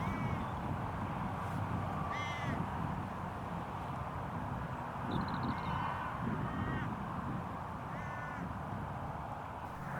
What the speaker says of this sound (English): a couple of hooded crows have already spotted the setup and landed on a fence line to my far right